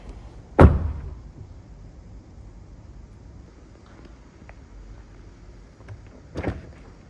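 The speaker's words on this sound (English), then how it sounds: "Here is the door thunk." A Tesla Model 3 Highland door shuts with a single solid, close thunk, followed by quiet cabin stillness and a softer second thud near the end.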